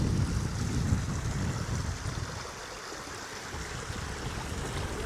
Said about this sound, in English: let's see if I can cross this river